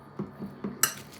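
A spoon stirring a Tbilisi-style salad of tender beef in a dish, with several light clinks and scrapes in quick succession, ending in a brighter metallic clatter, close and alone.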